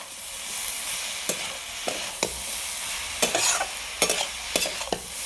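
Vegetable curry with cumin and pepper powder cooking in a pan, a continuous bubbling sizzle with several sharp scraping stirs, close up and without speech.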